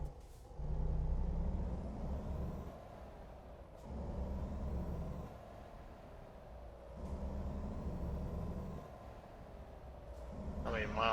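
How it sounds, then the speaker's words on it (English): A Mack truck in American Truck Simulator drives through Idaho with a deep, steady low engine drone that swells and eases in repeated waves as it shifts. There are brief air-brake hisses and a voice talking over it. "Looks like we're driving a Mac today."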